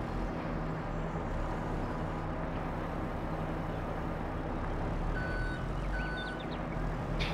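A forklift in Farming Simulator 22 reverses with faint, regular beeps over a constant engine drone on a farm.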